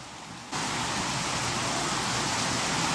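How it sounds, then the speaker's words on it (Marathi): Heavy rain pours down at a temple near Pune in a dense, steady roar that swells suddenly after a moment and stays loud throughout. "कारण की तुफान पाऊस चालू आहे इकडे"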